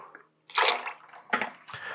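Apple juice poured from a measure into a cocktail shaker in two short, close bursts of liquid splashing, with a brief pause before each pour.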